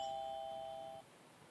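A doorbell chime in a K-pop music video rings out as a bright, sustained electronic tone, holding steady for about a second before cutting off and leaving quiet room ambience.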